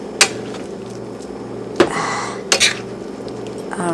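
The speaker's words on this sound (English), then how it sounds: "My pot keep turning around." A cooking pot clatters against the stove as it turns around while shrimp and broccoli cook, giving a few sharp metallic clanks spaced apart over a low steady background.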